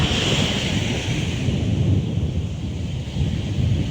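Sea waves at Thal beach in Alibag, heard as a constant broad roaring wash of surf mixed with wind rumble, loud and unbroken, with no voices.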